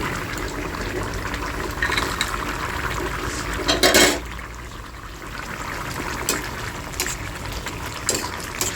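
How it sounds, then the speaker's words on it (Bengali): Water splashes briefly into a pan of spiced winter vegetables for tangra fish curry, a short gushing pour amid a low bubbling hiss and light clinks of a utensil against the pan. "এখন দিয়ে দেবো জল"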